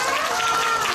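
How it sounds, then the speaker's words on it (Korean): Applause from a group of children at a safety class, given to a child volunteer after a CPR demonstration; dense, steady clapping close by for about a second with no clear speech. "수고해주신 우리 정석 친구에게 큰 박수 주세요"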